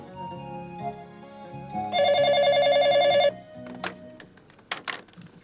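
An indoor telephone rings once in a steady, loud electronic trill lasting over a second, framed by soft background music and followed by light knocks and handling noises.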